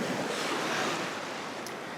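Ocean waves break and wash in close by, forming a steady, even roar of surf with no other sounds.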